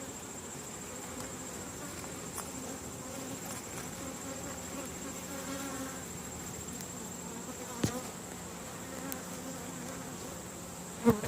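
Honeybees buzz steadily around an open hive during a frame inspection, a continuous close drone with occasional louder passes and faint clicks of handling.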